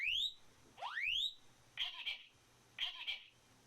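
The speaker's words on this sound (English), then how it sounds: "On the balcony, the alarm could be heard more clearly." Building fire alarm in a Japanese apartment complex, heard from a balcony: rising whoop sweeps alternate with chirping electronic tones, repeating at moderate distance with no voices.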